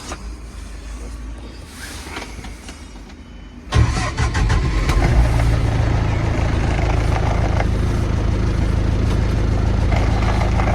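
A BISON 110 hp tractor engine cranks and catches near 4 seconds after a quieter idle-like hum, then settles into a loud, steady close-up running roar.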